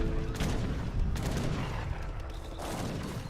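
Needle Gunner units fire volleys in the strategy game Age of Empires 3, a dense crackle of overlapping musket shots and battle noise at moderate level throughout.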